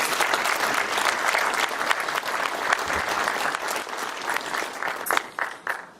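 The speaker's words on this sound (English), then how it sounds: "So let's give them another round of applause." A crowd at a city's annual state-of-the-city address gives council members a round of applause, a full, steady patter of many hands that thins in the last second into a few scattered, louder claps before stopping.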